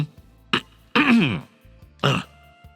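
A man clears his throat in three short, separate bursts: a quick one, then a longer rasping one, then a final brief one, close and distinct against a quiet background.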